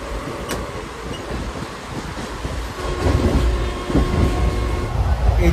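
The interior of a moving Indian Railways ICF coach at night fills with steady wheel rumble and wind rush. A few sharp clanks stand out and the noise swells louder midway. There is no talk.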